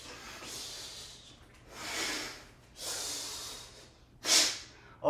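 Heavy, breathy exhalations during a qigong exercise, several long airy outbreaths in a slow rhythm, close and moderately loud, with a sharper snort-like breath near the end.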